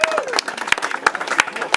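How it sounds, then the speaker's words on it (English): An audience claps outdoors at the Mystery Spot, with sharp, scattered individual claps close by, mixed with talking voices. "let's give him a round of applause"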